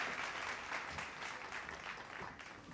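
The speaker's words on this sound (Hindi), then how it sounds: "जोरदार तालियां हो जाएं" An audience at a News18 Bihar Jharkhand education conclave claps in a dense, even wash of applause that holds steady for a few seconds, heard from a little distance and fairly soft.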